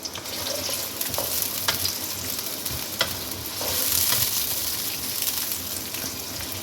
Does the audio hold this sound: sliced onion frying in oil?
yes